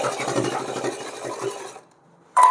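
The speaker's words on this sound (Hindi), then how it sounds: "इसको यहाँ पर पकड़ते हुए इस तरीके से सिलाई लगा देंगे पूरे में" A sewing machine stitches a cotton summer dress for a small deity doll, running steadily close up for nearly two seconds before stopping, then starting again briefly.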